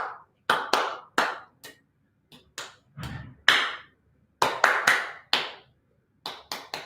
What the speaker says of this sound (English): let's practice clapping back